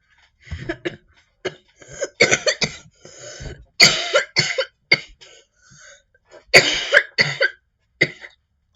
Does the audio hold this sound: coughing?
yes